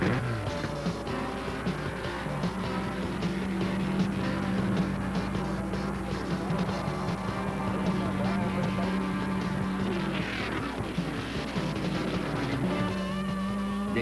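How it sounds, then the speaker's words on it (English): Race car engines firing up and idling together at Daytona, a steady dense motor drone that holds throughout under a voice talking. "start your engines."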